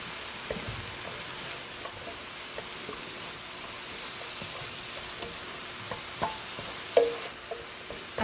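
Onions sautéing in a pan give a steady, soft sizzle and hiss throughout, with occasional faint stirring taps and one brief louder clatter near the end.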